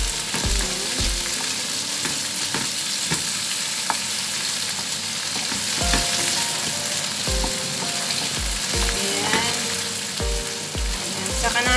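Cherry tomatoes dropped into a hot frying pan for garlic pasta, a loud continuous sizzle with scattered spatter crackles and intermittent low thumps and scrapes of stirring, no voices.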